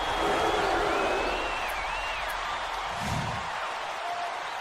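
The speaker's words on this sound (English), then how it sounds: "this crowd couldn't be any happier. Just listen to the people in this building." A large arena crowd at a college basketball game roars and cheers in a sustained wash of noise, with whistles rising above and a dull thud partway through.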